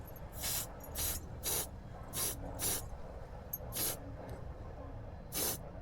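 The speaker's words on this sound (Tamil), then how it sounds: "ஒரு ஸ்ப்ரே பெயிண்ட் வந்து அடிச்சிடலாம் அப்படின்னு சொல்லிட்டு அடிக்க போகிறேன்" Red spray paint hissing from an aerosol can onto the edge of an old umbrella, eight short bursts in an irregular rhythm, close and fairly loud.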